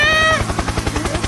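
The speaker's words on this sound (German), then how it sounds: "Helikopter, Helikopter!" Helicopter sound effect from a TikTok, a brief tonal whine followed by fast rhythmic rotor chopping pulses, loud and close.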